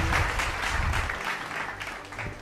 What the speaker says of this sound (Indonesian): berikan tepuk tangan untuk Capella Isuzu